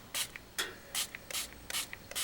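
Spray paint hisses from an aerosol can through a stencil in short, close bursts, about six sharp sprays separated by brief pauses.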